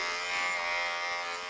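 Electric clippers trim a shih tzu's fur, giving a steady, close, high-pitched motor buzz that holds constant throughout.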